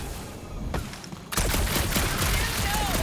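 Gunfire in Guardians of the Galaxy, a dense rapid fusillade erupting loudly after a quieter, darker stretch and continuing steadily to the end.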